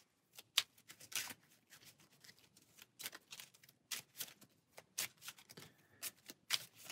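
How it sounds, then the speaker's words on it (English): A stack of Marvel Champions game cards is shuffled by hand in a quiet room, with repeated short riffling bursts in an uneven rhythm, close and fairly soft, and no voices. "So we'll shuffle his stack here"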